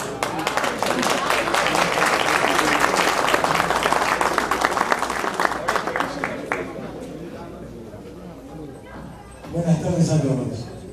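Audience applause at a Spanish-language agricultural event, dense and loud clapping for several seconds that thins out and fades, with a brief burst of crowd noise and voices near the end.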